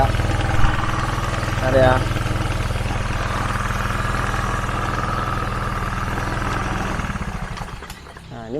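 A Honda Vario 110 scooter engine idles with a steady low rumble and a voice briefly speaking over it, then dies away near the end as the engine stalls.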